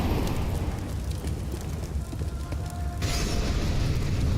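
A grenade blast in Counter-Strike during a professional IEM Katowice grand final match, a muffled booming burst with a sharp bright crack near the end, set against steady game ambience and no talking.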